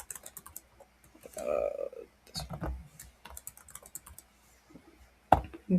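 Typing on a computer keyboard in real time while an eBay listing is filled in, scattered key taps and short runs of clicks with uneven pauses, close by, with a voice briefly speaking between them.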